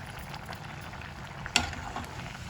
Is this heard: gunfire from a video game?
no